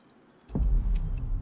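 A bunch of keys jangles sharply in The Quarry video game, a quick metallic rattle followed by a low engine-like rumble, near and fairly loud with no talking.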